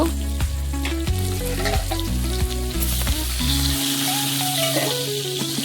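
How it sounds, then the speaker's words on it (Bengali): Salted bitter gourd pieces fry in oil with a constant close sizzle and occasional stirring, beneath a steady melodic music track. "আবারও কিছুক্ষণ ভেজে নেব।"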